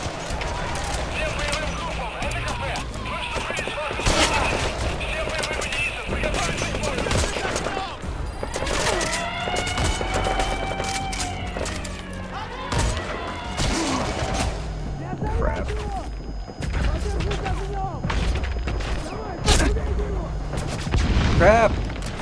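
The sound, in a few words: sniper gunfire in video game Metal Gear Solid V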